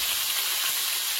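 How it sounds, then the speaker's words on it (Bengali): Greens fry in a little hot oil, giving a loud, steady sizzle that runs unbroken and close by with no talk over it. "ওই শাক ভাজা করবো, আর একটুখানি তেল দিয়ে দেবো,"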